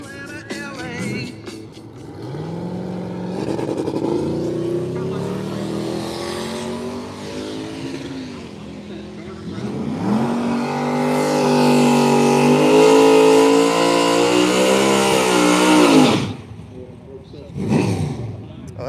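A street race car engine revs hard at launch and climbs in pitch through several long pulls, loud and close, then cuts off sharply before a short final burst.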